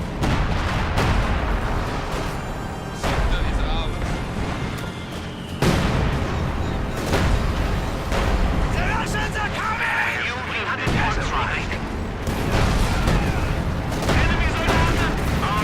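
Artillery fire and explosions in the real-time strategy game Company of Heroes 2 during a tank and infantry battle, a dense continuous barrage of booms and gunfire bursts at steady high level, with a commentator talking throughout.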